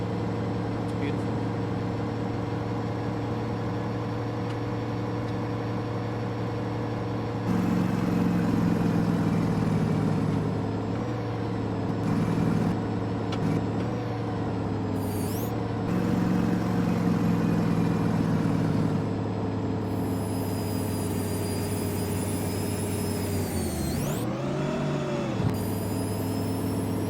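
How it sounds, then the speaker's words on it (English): Heavy truck engine in American Truck Simulator heard from outside the cab, a low steady diesel drone with shifts in pitch as it revs, alongside a continuous mechanical hum and bursts of brighter noise. "Have a listen to the truck from outside."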